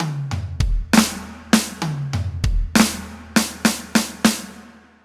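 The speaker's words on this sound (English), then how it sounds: "we're going to play snare drum, high tom, floor tom, kick" Drum fill moving across snare, high tom, floor tom and kick drum: about a dozen sharp, loud hits in quick rhythm, with toms dropping in pitch and snare cracks punctuating the pattern, played alone.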